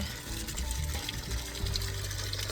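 Thawed water pours steadily into a chicken waterer, a continuous close gushing and splashing that keeps going without pause, no voices.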